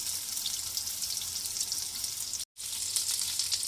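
Beef chapli kababs frying in oil in a pan, a continuous crackling sizzle heard alone with a brief break of silence partway through.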